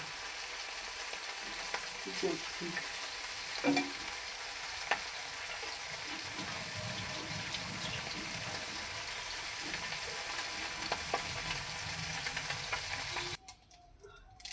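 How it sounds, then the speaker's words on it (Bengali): Steady, continuous sizzling of small mourala fish frying in hot oil, with a few faint clinks and stirring scrapes, cutting off abruptly near the end. "আগে মাছটা ভেজে নিই তারপরে আবার তোমাদের দেখাবো"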